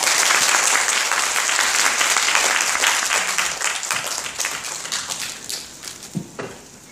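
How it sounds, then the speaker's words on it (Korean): A lecture hall audience applauds after a roughly 90-minute research ethics lecture, producing dense, loud clapping that holds steady and then thins and fades toward the end, with a few final claps. "다시 한번 큰 박수 부탁드리겠습니다"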